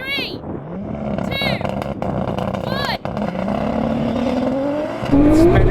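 An electric rallycross car of 600 kilowatts (800 horsepower) launches in a drag race, its motor whine climbing steadily in pitch while tires spin. The loud, continuous sound grows toward the end, with people's voices and whistle-like chirps over it.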